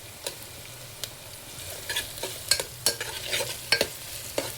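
Onions and green chillies fry in a pan with ginger garlic paste for a Telugu tomato egg curry, a steady soft sizzle broken by scraping spoon stirs landing every second or so, close and fairly quiet.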